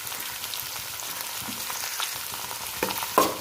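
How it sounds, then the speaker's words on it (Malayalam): Onions and curry leaves frying in a pan for crab biryani, a steady close crackling sizzle with a few stirring scrapes and a louder clatter near the end. "ഇനി നമുക്ക് കറിവേപ്പിലയും സവാളയും ഇട്ട് കൊടുക്കാം"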